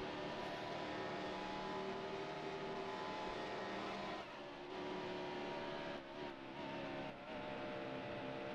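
NASCAR stock cars racing at Texas in NASCAR Heat Evolution, a sustained roar of several engines droning at high revs, with slight dips and shifts in pitch as cars jostle through a turn.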